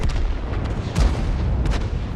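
A tank cannon fires in World of Tanks, loud booming blasts with heavy low rumble, a couple of sharp reports spaced across the moment, with no talking.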